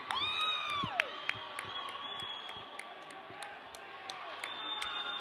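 A home crowd at a college hockey playoff game cheers as the Knights win, with whistles, whoops and shouting from many voices in an echoing rink, plus scattered clapping and sharp bangs, all moderately distant.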